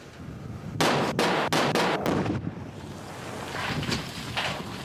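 A rapid series of sharp, heavy mine blasting explosions at an opal mine, several in quick succession, followed by a fading rumble and a couple of softer distant bursts.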